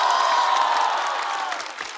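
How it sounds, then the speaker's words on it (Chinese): Audience applause and cheering for a stand-up comedian at a comedy competition show, a dense, loud wash of clapping that holds steady and then gradually thins out over about two seconds. "掌声再给小鹿。"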